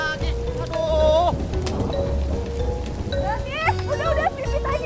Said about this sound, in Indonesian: baru juga panas, udah dikasih hujan lagi